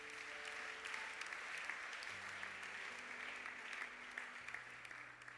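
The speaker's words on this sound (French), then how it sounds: "Est-ce que nous pouvons acclamer le Seigneur?" A church congregation applauding the Lord: steady, dense clapping from a crowd that fills the whole stretch at an even level, with faint sustained tones underneath.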